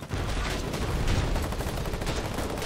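Dense, loud submachine gun fire in the Foxhole war video game, sustained bursts blending into a continuous battlefield clatter with no clear gaps between shots.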